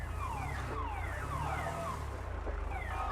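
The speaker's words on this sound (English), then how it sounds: "Someone's car alarm is going off." A car alarm blares inside a video game, its steady cycling electronic wail repeating loud and close with no talking over it.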